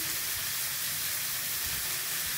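Tomato sizzles and fries in a pan as it is stirred for bread pakora, a steady bright hiss of frying that holds evenly and close throughout.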